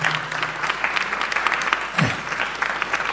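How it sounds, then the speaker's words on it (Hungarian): An audience at a book launch and lecture breaks into applause, a full, even round of clapping from a crowd lasting about three seconds, with a brief low voice murmuring partway through. "Nyugodtan meg lehet tapsolni"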